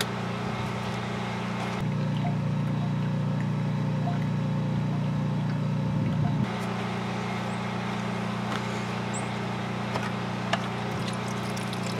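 A small pump pushes Eco-Goldex leaching solution through buckets of ore, giving a steady low electric hum with a faint trickle of liquid, constant and close, with a slight shift in tone partway through.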